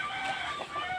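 A large hen clucks steadily while straining to lay an egg, close by with repeated throaty calls over about a second, no voices.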